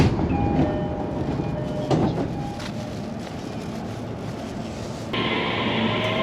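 A Tokaido Line train bound for Atami rumbles steadily along the rails from inside the car, with rhythmic clicks and a brief whining tone, its interior noise shifting partway through.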